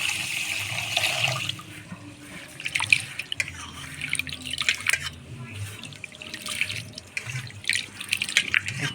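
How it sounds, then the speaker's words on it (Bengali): Broken rice (khud) being washed by hand in water, with soft sloshing and trickling and intermittent drips and splashes, close and fairly quiet throughout. "এবার খুদটা আমি ধুয়ে নেব।"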